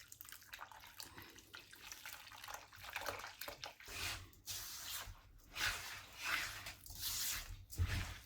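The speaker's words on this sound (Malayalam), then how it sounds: "ശർക്കര മെൽറ്റ് ചെയ്ത് വെച്ചില്ലേ അത് നമുക്കിതിലോട്ട് ഒഴിച്ചു കൊടുക്കാം" Melted jaggery syrup pouring onto poha for laddu in a home kitchen, a soft wet splashing and trickling sound that comes in uneven surges, fairly quiet and heard alone.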